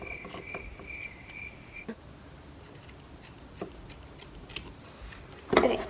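Scissors cut lengths of elastic for pointe shoes to matching size, soft snips and handling ticks in a quiet room, a faint high tone early and a louder rustle at the end.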